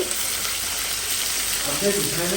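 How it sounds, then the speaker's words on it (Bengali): Small chicken pieces fry in a pan with a steady, close, dense sizzle that holds throughout, with a faint bubbling rise near the end. "এখন হলো আমি চিকেন ভাজতেছি ছোটো ছোটো টুকরা"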